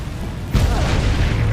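Incendio fire spell cast in Hogwarts Legacy: a sudden deep booming whoosh of flame bursts in after a quiet moment and keeps roaring steadily.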